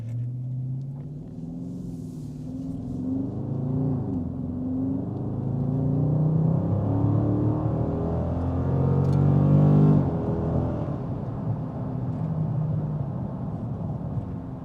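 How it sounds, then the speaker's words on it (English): Dodge Charger Scat Pack Widebody accelerating moderately hard on a street, a deep engine rumble that builds steadily and rises in pitch through the gears, heard from inside the car and loud throughout. "I'm gonna accelerate kind of sort of hard just because, you know, I can."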